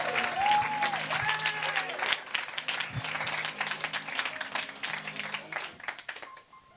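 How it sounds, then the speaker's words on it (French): An audience applauds a speaker taking the stage at a talk event, a thick burst of many hands clapping that runs for several seconds and eases off at the end, with voices and cheering mixed in. "On applaudit Alexandre."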